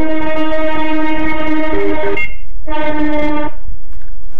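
A train horn blares two long, loud blasts, with a short gap between them, over a steady low rumble.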